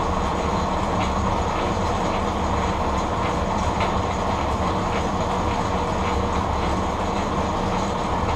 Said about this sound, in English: The drivetrain runs quieter than I would have thought with the transmission. I expected to hear a lot more gear noise.